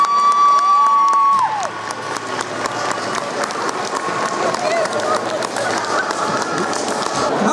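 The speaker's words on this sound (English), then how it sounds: "Give a big round of applause." Loud crowd applause and cheering at the Exeter Film and Comic Con 2017 stage, a dense wash of clapping and whoops. It swells in after a brief tone and holds steady to the end.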